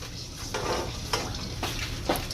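Garlic sizzles in hot groundnut oil at the start of a sauce for goat meat asun fried rice. The frying crackle holds steady and close, broken by a few sharp scrapes from a stirring spoon.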